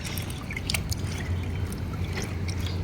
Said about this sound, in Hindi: वही थोड़ा पानी डालो।